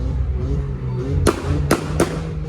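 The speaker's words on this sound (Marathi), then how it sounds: "सगळीकडे फटाके फुटत आहेत एक्झॉस्ट बघा" Three sharp exhaust backfire pops in quick succession over a low idling engine rumble from a modified car or bike at a show, close and fairly loud.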